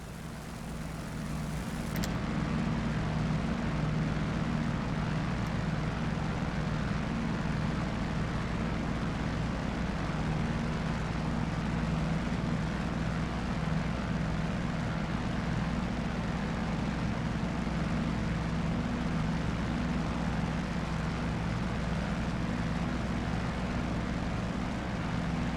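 Radial piston engine of an F4U-1D Corsair fighter in flight in the DCS combat flight simulator, a steady, loud drone with a low rumbling hum that holds evenly throughout, with no talk over it.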